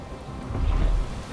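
Rain with a low rumble of thunder swelling midway in the survival game Space Engineers, a steady wash of rainfall under a brief deep roll, heard alone.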